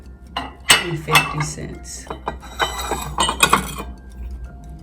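Vintage china dishes, part of a 39-piece set, clink and clatter as they are handled, with sharp ceramic knocks and chimes scattered through the clip at close range and no talking.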